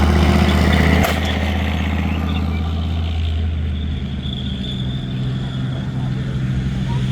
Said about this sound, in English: Quick second shot by the Leopard, and using its speed, charging down the field.